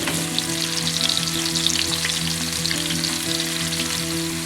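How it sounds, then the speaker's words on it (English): Pork medallions frying gently in butter in a pan, a steady close sizzle and crackle over a low hum, with no talking. "We're going to start frying off the pork now, and we just want to gently cook this off until it's nice and golden brown."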